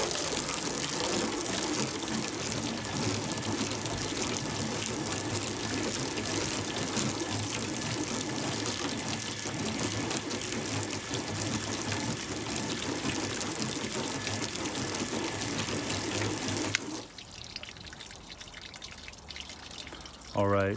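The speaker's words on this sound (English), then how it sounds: "The water runs off a lot faster there." Water running off a car surface coated with Meguiar's Ultimate Quik Wax and Autoglym Rapid Aqua Wax, a steady hissing spray and trickle that stops abruptly near the end, leaving quieter drips.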